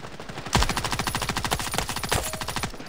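Rapid automatic M4 rifle fire in the Standoff 2 mobile shooter, a sustained burst of evenly spaced loud shots starting abruptly after a short pause and running to the end, close and alone.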